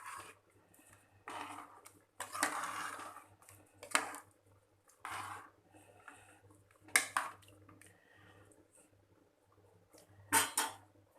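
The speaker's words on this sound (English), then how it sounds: "Give it a stir." A spoon stirring mutton biryani in a pot, quiet scraping and soft clinks in irregular bursts, with a low hum beneath and no voices.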